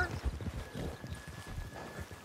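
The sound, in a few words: horse, from the video game Red Dead Redemption 2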